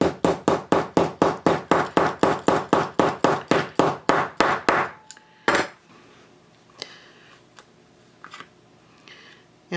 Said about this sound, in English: I'll use a hammer to cut out that die shape